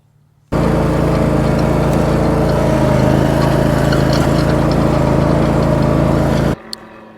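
A garden tractor engine starts up after a moment of quiet, runs with a loud steady drone for several seconds, then shuts off.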